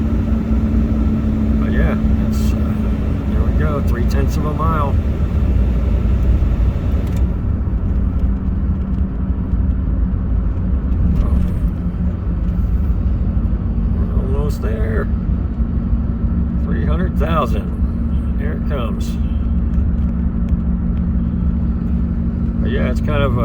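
A 2003 Ford F-150 with the 5.4 liter Triton V8 cruises along with a steady, loud engine drone and road rumble heard from inside the cab, while someone talks intermittently over it.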